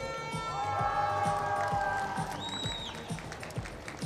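A crowd cheers, whistles and claps at a youth archery gold medal match for junior compound men, a lively mix of voices and rhythmic clapping with a whistle tone rising mid-clip.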